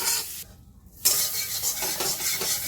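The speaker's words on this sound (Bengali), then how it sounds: "কড়া বসিয়ে দিচ্ছি সামান্য একটু বাটার দিয়ে দিচ্ছি" Butter melting in a hot kadai, a soft sizzle and hiss close by that drops out briefly, then returns steadily.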